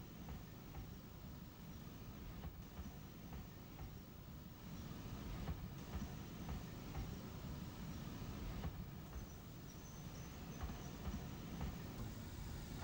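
A train hauled by a British Rail Warship class diesel locomotive from Exeter rumbles past at a distance, a steady low engine drone with faint rail noise and no talk.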